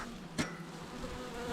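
Honey bees buzzing close by around hive frames that have just been moved, a soft steady hum with a brief louder buzz passing near.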